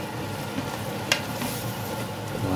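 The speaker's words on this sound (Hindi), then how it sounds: "इसके अंदर हम फिर इसको देसी घी में भूनेंगे।" Grated carrots cook in thick homemade desi ghee for gajar halwa, giving a steady, moderately loud frying hiss with a few soft stirring scrapes and one brief sharp click.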